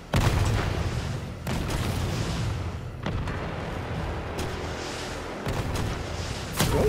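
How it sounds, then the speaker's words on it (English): Heavy booming weapon blasts from a rocket launcher in the Resident Evil 3 video game, several loud explosive hits with rumbling tails spaced across the stretch, with no talking. "Rocket launcher? Really?"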